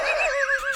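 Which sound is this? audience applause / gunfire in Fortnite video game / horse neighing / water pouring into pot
horse neighing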